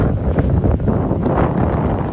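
Strong wind roars steadily into the microphone on Diani beach, Kenya, a constant low rumbling buffet with gusty surges throughout.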